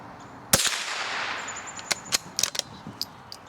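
Several sharp shots from a bolt-action .22 rifle firing CCI Blazer high-velocity ammunition: one loud crack with a ringing tail, then a string of quicker, lighter reports at irregular intervals, heard outdoors with no talking.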